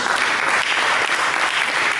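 A worship congregation bursts into applause in a church, a brief, dense and loud patter of many clapping hands, constant throughout with no speech over it.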